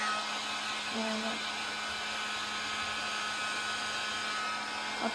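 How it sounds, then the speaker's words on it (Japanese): A hair dryer runs steadily through the whole stretch as a loud, constant blowing whir, and a brief tone can be heard partway through. "ちょっとドライヤーしていいですか？"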